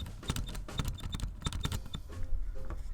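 A laptop keyboard is typed on in quick bursts close up, each press giving a faint high squeak, then the tapping thins out toward the end.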